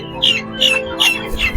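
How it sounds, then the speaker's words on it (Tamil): Guinea fowl on a poultry farm give loud, harsh repeated calls, four rhythmic squawking bursts in quick succession close by. "இது கினிக்கோழின்னு சொல்லுவாங்க."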